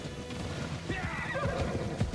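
Mounted guards' horses in the video game Assassin's Creed Odyssey whinny loudly, with a neigh rising in the middle, over a rough thud of hooves and dense battle noise, close by.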